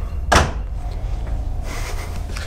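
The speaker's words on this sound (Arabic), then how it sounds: "يدق الباب انت متخيل عم يدق الباب" A single sharp knock or thump on a house door lands near the start, followed by quiet room hiss and faint rustling, with no talk.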